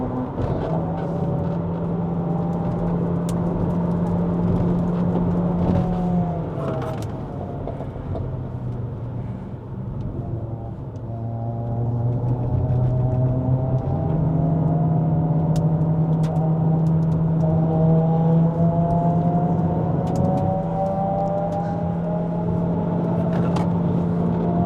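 A Proton eMas 7 PHEV Premium at full throttle on a mountain climb to Genting, Malaysia: a loud, steady powertrain drone whose pitch rises in long sweeps, drops once around a shift, then climbs again.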